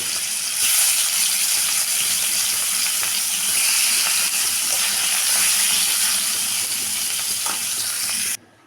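Fish frying in hot oil makes a loud, steady, dense sizzle that runs unbroken for several seconds before stopping abruptly, with no talking.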